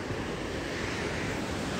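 Ocean waves on an African shore make a continuous roar of surf, with steady broadband wash and some wind noise on the microphone and no voices.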